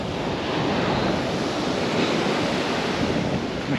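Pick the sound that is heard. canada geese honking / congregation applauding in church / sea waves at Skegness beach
sea waves at Skegness beach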